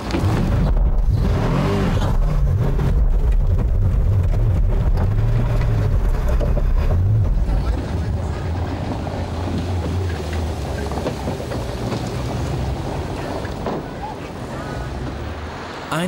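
Apollo Biturbo V8 supercar, 650 hp, rumbling loud and steady on a test drive, with heavy low engine drone and wind buffeting throughout, easing slightly in level after the first half.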